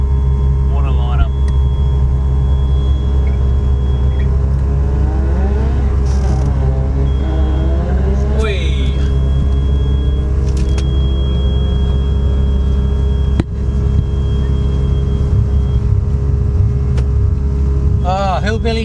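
Datsun race cars lined up with engines running, a loud continuous low idling drone close by with steady tonal hum and occasional revs, while people talk nearby.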